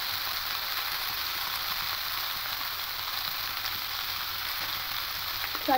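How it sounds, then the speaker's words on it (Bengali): Okra frying in a pan gives off a steady, even sizzle that holds for the whole stretch, with a faint clink or two right at the end and no voices. "ঢ্যাঁড়সগুলো দিয়ে একটু ভালো করে মিশিয়ে নেব।"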